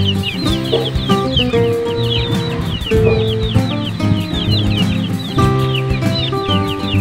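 Pet chicks peep and cluck continuously, with many high, rapid cheeps layered over lower clucking and a steady tonal background hum, close by and busy throughout.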